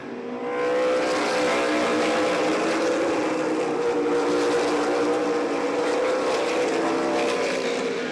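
A steady, loud roar of several race car engines droning together without a break on an oval speedway, with a layered mechanical hum that holds throughout.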